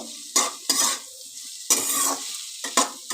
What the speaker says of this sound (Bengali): এবার আমি একটু নাড়াচাড়া করে ভেজে নেব